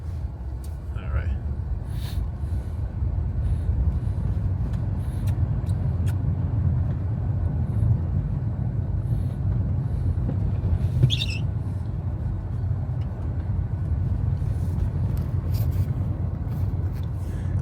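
Tesla Model S driving on a snowy road after a blizzard, a steady low rumble of tires and road noise heard from inside the car, with a few faint clicks and soft voices in the background.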